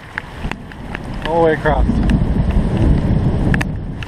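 Heavy Arizona monsoon rain with water pouring down, a loud steady broadband rush that swells after a brief spoken phrase and continues close and constant.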